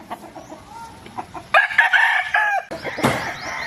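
A gold-feathered fighting rooster on a farm crows loudly and close by, giving a strained, rising call followed by a second crow, with softer clucks beforehand.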